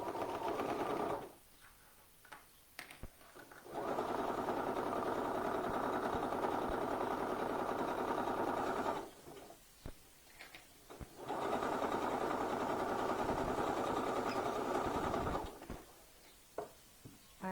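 A sewing machine stitches the side seam of a flounce on a blouse in three steady mechanical runs, each a fast even whir, separated by short quiet pauses.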